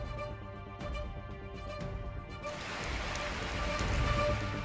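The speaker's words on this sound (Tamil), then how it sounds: "மணிமுத்தாறு மற்றும் சுற்றுவட்டார பகுதிகளில் சூறைக்காற்றுடன் மழை பெய்தது" Rain falls during a windy storm around Manimuthar in Tamil Nadu, a steady hiss of drops that grows denser and louder toward the end, with no one speaking.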